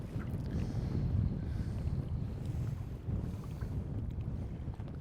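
Strong, gusty wind on the Scottish west coast roars and buffets the microphone in a continuous low rush, swelling and easing slightly without a break.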